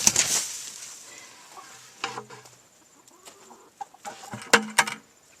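A bucket of straw dumped into a chicken run: a loud rustling burst at the start, then scattered crackly rustles and clucking hens nearby.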